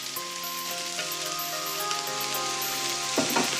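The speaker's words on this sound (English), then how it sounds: "Get your oil nice and hot and add your eggplants and your onions." Eggplant and onion pieces sizzle in hot extra virgin olive oil, a constant close frying hiss with fine crackles that holds evenly, then a short louder flurry of spatter toward the end.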